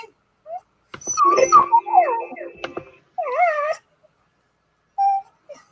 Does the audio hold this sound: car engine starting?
no